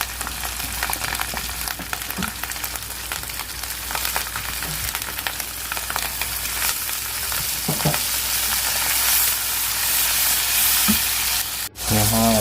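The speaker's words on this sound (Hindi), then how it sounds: "अब हम टमाटर अपने इसमें डाल देंगे।" Tomato paste frying and being stirred in a pan for besan khandoiyan, a loud continuous sizzle with intermittent spoon scrapes throughout, ending in a sharp clatter near the close.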